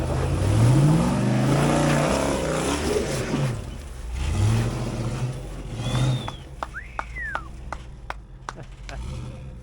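An old wrecker truck revs hard with the engine held in a low gear while its tires spin trying to climb a steep dirt trail wall, a loud, steady engine roar that eases off midway, with people talking over it and scattered sharp clicks near the end.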